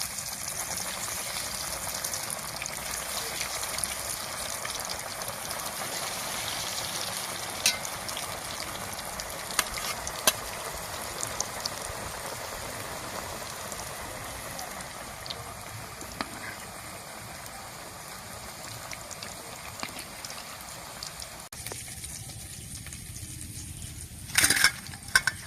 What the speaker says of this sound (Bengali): একই রকম ভাবে সবগুলো ভেজে নেব।